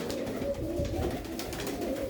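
A blue pigeon coos softly and continuously at close range, with a low rolling murmur throughout and no speech.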